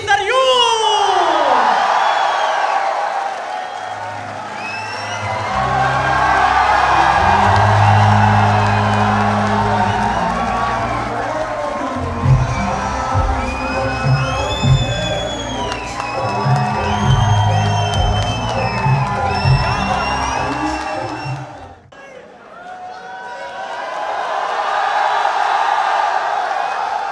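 A crowd at an Urdu poetry recital cheers, whoops and shouts with loud, dense enthusiasm, swelling over several seconds before a brief dip and then rising again.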